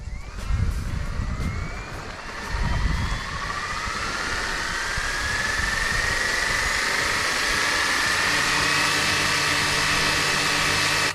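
A Fly Wing RC AS350 Squirrel model helicopter spins up for takeoff: a few low thumps at first, then a whining motor and rotor tone climbs steadily in pitch and settles into a loud, close, continuous hum.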